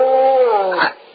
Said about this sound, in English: that was just a dog, Dora.